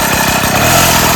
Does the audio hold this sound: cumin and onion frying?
no